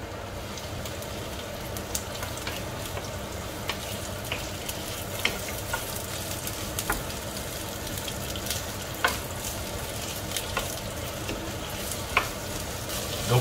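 Bacon lardons and onions frying in a pan over medium heat, a steady close sizzle with scattered clicks and scrapes as they are stirred, no talk.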